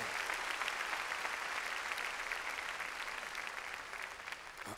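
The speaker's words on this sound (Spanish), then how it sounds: "démosle palmas fuertes al Señor" Loud, sustained applause from a church congregation, a dense, continuous clatter of clapping that holds steady throughout.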